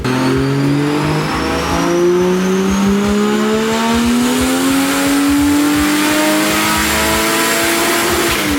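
A turbocharged Toyota Supra with a JZ engine and an eBay turbo kit revs hard and loud, its engine note climbing steadily in pitch across the whole stretch, with no talk over it.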